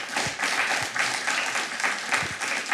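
Audience applause at a Kyle city council meeting, a dense sustained wash of clapping from a room full of people, steady throughout with no talking.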